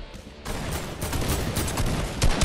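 Sustained rapid gunfire from a minigun in a video game set around a mining area, dense and continuous for a couple of seconds with sharper bursts near the end, loud and close.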